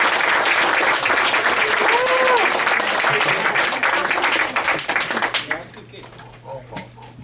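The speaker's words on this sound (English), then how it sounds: "I gotta give you a round of applause" Audience applause at a community meeting, loud sustained clapping from a crowd that fades out toward the end.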